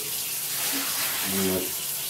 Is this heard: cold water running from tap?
yes